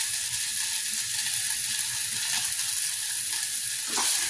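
Chopped onion frying in a pan with turmeric powder and asafoetida added, a loud steady sizzle and crackle throughout with a brief scrape of stirring near the end.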